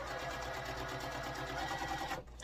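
Sewing machine stitching a quarter-inch seam on quilt block pieces for an Arizona sampler block, a steady close motor hum with rhythmic needle ticking, running continuously before cutting off just at the end.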